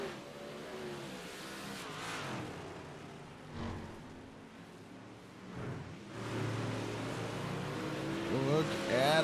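Dirt modified race cars roar around a dirt track at a championship night in Charlotte, engines swelling and fading at a distance, with commentary running over the whole stretch.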